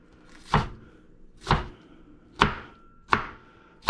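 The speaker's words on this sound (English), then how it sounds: "This is a red pepper, and we're cutting it up." A knife chops through a red pepper on a cutting board, five sharp, evenly spaced cuts about a second apart, close and clear with quiet between them.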